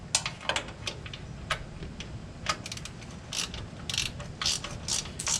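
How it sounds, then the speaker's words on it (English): Ratchet wrench with a 17 mm socket clicking as it turns a front strut bolt on a 2015 Ford Expedition, with irregular bursts of close, crisp pawl ticks and pauses between strokes, no talking. "these are 17 millimeter, which I luckily have a ratchet wrench for"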